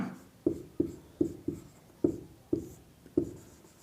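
Writing strokes on a board during a physics lesson: about seven crisp, separate taps and scrapes in an uneven rhythm, close and clear with no talk over them.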